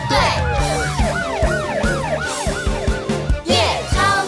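A cartoon ambulance siren wails in a repeating rising-and-falling pattern over the music of a children's song about rescue vehicles, loud and upfront with a backing beat.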